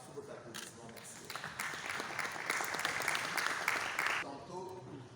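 Audience applause at a young lawyers' bar forum in Matete, a sustained close clapping roar that swells midway and tapers off, with a voice talking underneath.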